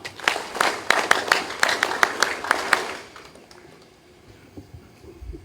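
Scattered audience clapping at a Philippine military training ceremony. Sharp, uneven hand claps ring out for about three seconds, then fade into quiet room ambience.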